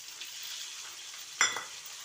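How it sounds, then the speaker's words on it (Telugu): Broad beans frying in a pan with garlic paste while turmeric is stirred in, giving a steady close sizzle and a sharper scrape of stirring about two-thirds through. "పసుపు వేసి కలుపుదాము."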